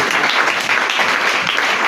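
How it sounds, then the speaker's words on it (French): A church congregation applauding during a sermon, loud and dense clapping that holds steady for the whole stretch with no voices over it. "Est-ce qu'on peut l'applaudir royalement?"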